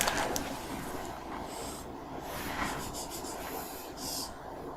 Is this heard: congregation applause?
no